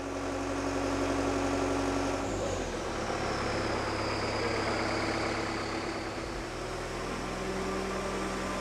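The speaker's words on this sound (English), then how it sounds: "The operator of the aircraft tractor grabs the nose wheel to carefully push it out of the hangar" An aircraft tow tractor's heavy engine idles with a steady low rumble, a faint high whine drifting across the middle, with no voices.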